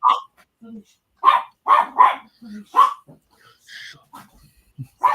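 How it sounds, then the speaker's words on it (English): A dog barks in a string of sharp, loud woofs with short pauses, some softer yips and whimpers mixed in, heard close up with little else around. "my dog just had to blow up"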